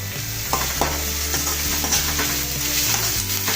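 Green chili paste fries in a hot pan with a steady, close sizzle and occasional stirring scrapes, under soft background music.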